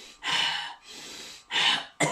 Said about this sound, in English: you will actually irregulate your breathing by developing a cough